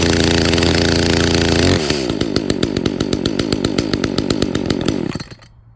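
A chainsaw roars at steady high revs, then drops to a lumpy, popping idle for a few seconds before cutting off abruptly. The engine is warm and started with the choke pushed in. Loud and close, with no voices.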